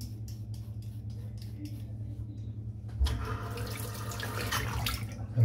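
Water runs from a bathroom tap while a razor is wetted before a head shave, a soft steady trickle that grows louder and splashier partway through, close by.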